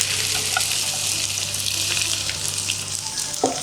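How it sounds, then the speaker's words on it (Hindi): Okra sizzles steadily in hot oil with tomatoes in a home kitchen, a loud continuous frying hiss with a brief clatter near the end. "भिंडियुनि खे कंदासीं फ्राई।"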